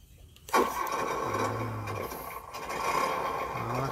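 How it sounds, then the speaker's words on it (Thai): A small engine on a remote-controlled rotary tiller being started outdoors kicks into life with a sudden burst, then settles into a steady, rough mid-pitched running drone that stays loud and close for several seconds. "เดี๋ยวสตาร์ทเครื่องแป๊บนะครับ"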